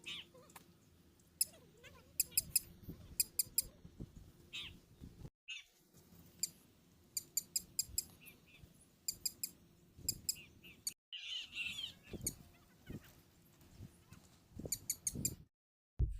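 A small bird near a vegetable plot calls again and again, fairly close, in bursts of rapid high chirps separated by short quiet gaps.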